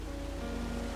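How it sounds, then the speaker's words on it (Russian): A waterfall in Firewatch gives off a steady, dense rush of falling water, close and continuous with no pauses. "It's a really nice waterfall down here."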